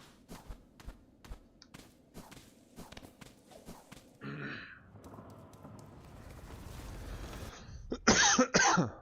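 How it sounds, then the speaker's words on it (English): A person coughs repeatedly in short bursts, followed by rustling and shuffling movement, then a harsher cluster of coughs near the end. "I guess I am developing a cough or something."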